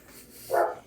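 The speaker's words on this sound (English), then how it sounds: "You can hear my dog in the background." A dog barks once in the background, a short muffled woof rising briefly above a low room hum.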